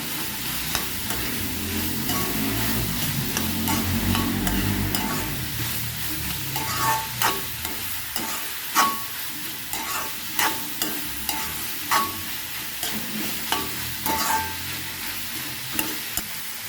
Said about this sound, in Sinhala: දාලා හොඳට කලවම් කරගන්න.